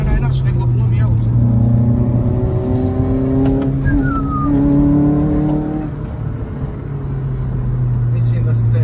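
Revving hard through the gears, a Renault Megane's F7R 2.0 16V petrol engine with five-speed manual roars loudly from the cabin, pitch rising steadily, then falling back at a shift as the drone eases off.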